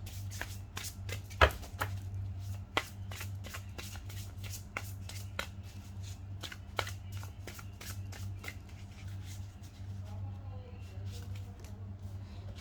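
Tarot cards are shuffled by hand at close range, a long run of crisp riffling flicks and soft slaps in an irregular rhythm over a low steady hum.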